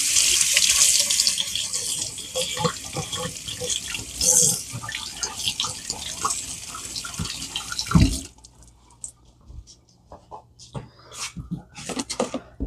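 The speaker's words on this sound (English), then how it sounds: "Let me go wash these." Cucumbers being washed under a running kitchen tap, with a strong, steady stream of water splashing for about eight seconds, then the flow stops and a few drips and light clinks follow.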